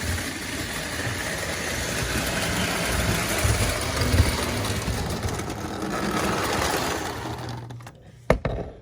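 A roughly 70-year-old vintage Lionel toy train runs on its track with a steady close whirring motor hum and faint rattling, ending with a couple of sharp clicks.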